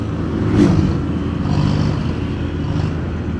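A Honda BeAT scooter engine revs nearby on a road, two or three rising surges of throttle over a steady running drone.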